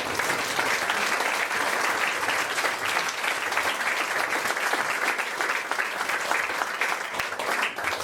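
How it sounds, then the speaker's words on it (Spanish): A church congregation at a Sunday service bursts into loud, dense applause, continuous and even throughout, filling the room without any voices rising above it. "denle un fuerte aplauso al Señor"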